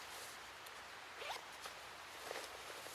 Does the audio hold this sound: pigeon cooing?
no